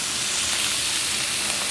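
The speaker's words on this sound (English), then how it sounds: "We got her on here to sear. Couple minutes each side." A steak sears on a grill with a steady, broad sizzle and hiss, constant and close, with no pauses or talking.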